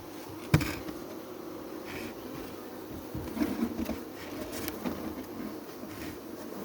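Faint, steady buzzing of honeybees around a hive as frames are shaken out in cold November weather, a soft drone with a few sharper knocks and rustles close by.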